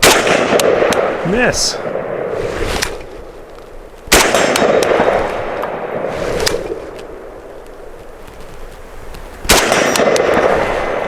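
A WBP Fox rifle fires shots at steel targets outdoors, three loud sharp reports spaced several seconds apart, each with a short ringing decay, and a voice speaks briefly between them.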